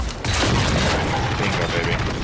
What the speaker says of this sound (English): Oh, shotgun.